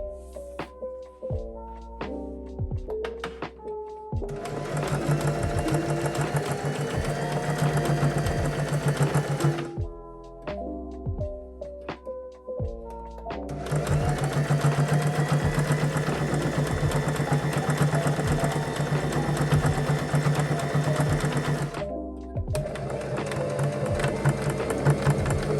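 A sewing machine stitches a pajama pants waistband in three long bursts of steady fast whirring, separated by pauses that carry clicks and handling noises, close and clear.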